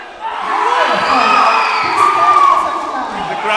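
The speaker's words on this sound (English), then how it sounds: "The crowd goes wild." Powerlifting crowd at the Luzon Cup erupting after a successful lift, a loud close burst of cheering, whoops and high shouts that swells and holds strong before easing slightly.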